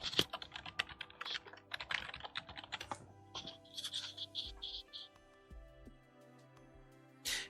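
Quick bursts of typing on a computer keyboard as an email address is entered, with irregular clusters of key clicks and a few louder keystrokes, close and fairly quiet with no talking.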